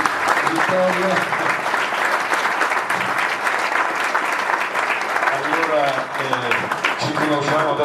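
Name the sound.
audience applause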